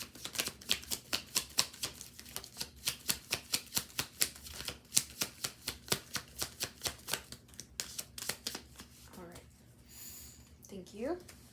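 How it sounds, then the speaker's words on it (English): An oracle card deck is shuffled close by in a quick, steady run of crisp riffling card slaps for several seconds, followed by softer handling and faint breathing, with no talk. "I'm gonna do one more shuffle."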